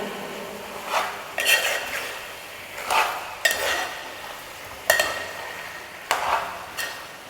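Chicken curry being stirred and fried in a casserole pot, with a metal spoon scraping and clanking against the sides in several distinct bursts over a low, steady sizzle.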